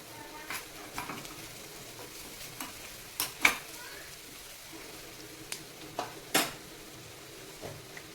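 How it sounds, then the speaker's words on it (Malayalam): Curry leaves go into hot oil for a Malabar raw mango curry, giving a soft sizzle under scattered sharp clinks and scrapes of a spoon stirring in the pan, close and fairly quiet. "നമുക്ക് ഇതിലേക്ക് കറിവേപ്പില ഇട്ട് കൊടുക്കാം."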